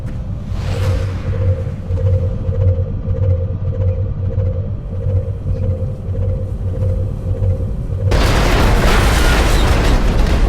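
A rocket fires in XCOM: Enemy Within, a whooshing burst followed by a low droning rumble, then a loud broad explosion crashes in near the end and sustains.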